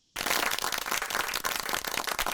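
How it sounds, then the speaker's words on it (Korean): Children applauding in a classroom, a radio drama sound effect: a sudden, dense burst of many small hands clapping at once, close and lively for a couple of seconds. "아이들은 박수를 쳤고"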